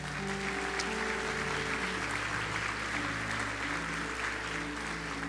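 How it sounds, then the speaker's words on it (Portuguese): A church congregation claps continuously in a dense, even wash of applause, with a low sustained musical tone beneath it. "Dê um aplauso ao Senhor."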